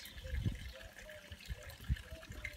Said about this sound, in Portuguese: Uma fonte, a água que nós estamos bebendo vem mesmo da nascente.